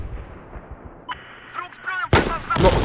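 Gunfire in the multiplayer shooter Battlefield 4, a few muffled distant shots followed by a loud, close blast near the end, with a faint background hum throughout.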